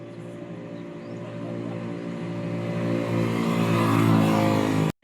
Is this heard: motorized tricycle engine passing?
yes